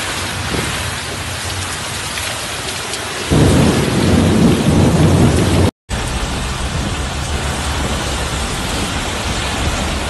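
Severe thunderstorm lashing Jeddah, Saudi Arabia, with heavy rain and strong wind: a dense, loud roar of rainfall and gusting wind that swells into a heavier surge midway, briefly cuts out, then resumes steadily, with no voices.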